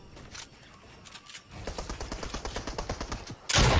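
Gunfire in Fortnite: a fast string of roughly a dozen evenly spaced sharp shots rattles out in the middle, ending with a heavier loud blast at the close.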